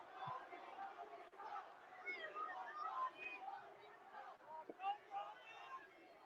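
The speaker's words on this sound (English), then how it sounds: "Some We Want Rocky chants." Wrestling crowd at a WrestleMania 40 kickoff press event, distant and faint, with chanting and shouting voices rising and falling in a restless crowd roar.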